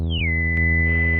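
A Gamechanger Motor Synth MK2 plays dry with no reverb, a sustained buzzy tone rich in harmonics whose high pitch glides down briefly before settling, loud and close.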